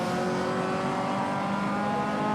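Race car engine in rFactor 2, an MCR Sport 2000 lapping the Guapore circuit, droning loud and steady with a sustained high whine and no break.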